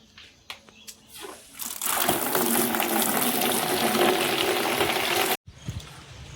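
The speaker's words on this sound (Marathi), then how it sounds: "आता करते मी चेक, पाणी भरते इथं" Water gushes steadily into a sprayer pump tank for about four seconds, a loud, close, splashing fill preceded by a few clicks and cut off abruptly.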